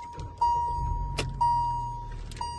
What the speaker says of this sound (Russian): это заведем наш автомобиль.